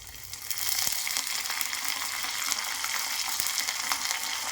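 Crushed cumin, garlic and curry leaves sizzling in hot oil, a loud, steady, crackling hiss that swells just after they drop into the pan, close with no talk.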